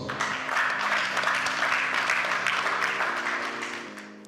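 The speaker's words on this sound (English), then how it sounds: "Let's give ourselves a round of applause." Audience at a restaurant managers conference breaks into sustained applause, a dense wash of many hands clapping that holds steady before tapering slightly at the end, with a faint tonal hum underneath.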